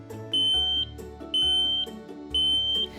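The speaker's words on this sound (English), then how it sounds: "Once the smoke alarm is in place, make sure to test it." A smoke alarm sounds three loud, piercing beeps in an even rhythm, each lasting about half a second with short pauses between.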